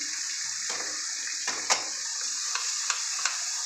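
Ginger, onion and garlic paste frying in a pan with melted tomato, a strong steady sizzle punctuated by several sharp spatula scrapes and clinks, close and loud, with no talking.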